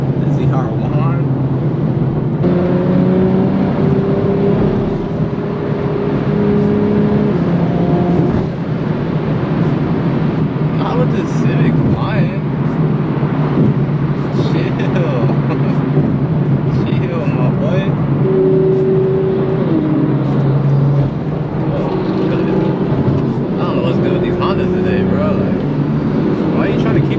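A Chevrolet Corvette ZR1 rumbles nearby at a Cars & Coffee meet, its engine droning steadily with shifting tones under crowd chatter and voices.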